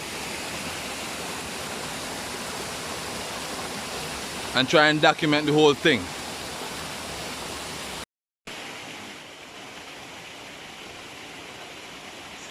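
Hot steaming spring water runs down into the Wallibou River, a steady broadband rush throughout with no breaks in the flow, while someone speaks briefly partway through.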